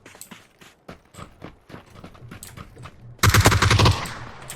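Gunfire in the battle royale shooter PUBG: scattered single shots and footsteps, then a loud, rapid close burst of automatic rifle fire lasting under a second, with no talk.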